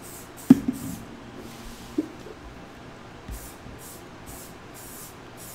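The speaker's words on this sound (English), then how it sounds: "What color are you spraying right now?" Short bursts of Rust-Oleum gloss spray paint hissing from an aerosol can in quick succession, with a few sharp knocks and clicks in between, fairly quiet and close.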